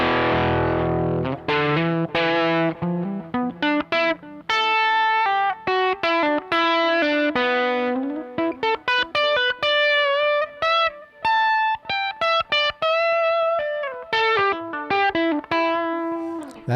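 Crunchy, overdriven electric guitar through a Pro Co RAT and a second distortion pedal, playing a busy run of notes and chords, loud and continuous with brief gaps between phrases.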